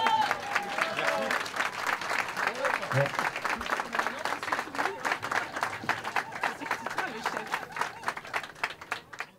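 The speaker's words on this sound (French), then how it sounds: "Allez, on peut les applaudir encore." A crowd applauds trophy winners at the trompe goule world championship in France, a dense run of clapping that stays loud for several seconds, then gradually thins and fades toward the end.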